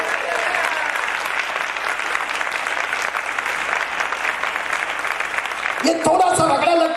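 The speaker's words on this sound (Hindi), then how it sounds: "उस एक खुदा के लिए जोरदार तालियां बजा" A large audience at a church gathering claps loudly and continuously for several seconds. A voice with a musical tone cuts in at the end as the applause continues.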